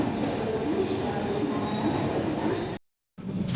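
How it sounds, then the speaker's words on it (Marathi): A passenger train pulls into a station in the Konkan region with a steady rumbling roll, loud and continuous, then cuts off abruptly near the end. "सो फायनली आपली ट्रेन आलेली आहे"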